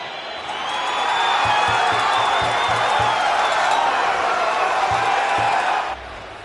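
A stadium crowd at a Como versus Atalanta football match gives a loud, steady, subdued murmur after an away goal, with scattered low thuds beneath it. The noise drops away abruptly near the end.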